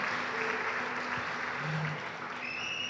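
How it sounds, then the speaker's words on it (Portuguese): A church congregation claps at a Sunday worship service, soft and steady applause from a distance, with faint tones and brief voices over it. "Você pode dar uma salva de palmas para Deus?"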